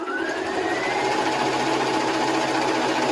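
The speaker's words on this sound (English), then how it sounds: "So I've top stitched really quickly all those 3." A sewing machine runs continuously while top stitching fabric, a steady close whirring motor drone with a faint rising whine, loud and uninterrupted, with no voices.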